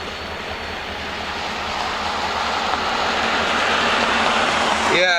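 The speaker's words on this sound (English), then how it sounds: "Detaching a locomotive." A locomotive being uncoupled from a train, heard as a loud, steady rumbling wash of engine and rail noise that builds slightly over five seconds, ending in a brief squeal, close by with no talking.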